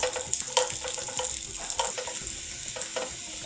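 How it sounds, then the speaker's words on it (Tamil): Garlic sautés in a pan for garlic rasam, giving a steady close sizzle broken by repeated scraping stir strokes, with no talking. "இந்த மாதிரி மாறுற வரைக்கும் வதக்கிடுங்கோ"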